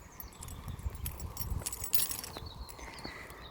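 A bunch of keys jingles in a pocket or hand while someone walks through a quiet town centre in Oberhausen, producing faint metallic rattles over soft footsteps and distant outdoor ambience.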